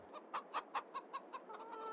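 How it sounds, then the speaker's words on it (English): Adult chickens on a farm in a farming video game cluck in a quick series of about eight short, evenly spaced clucks, fairly close, followed by a drawn-out call. "let's have a look at some adult chickens then"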